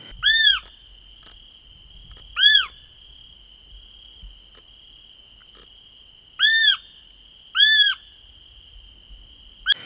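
A bird calls four times at night, short arched whistling notes separated by gaps, over a steady high insect drone and near silence.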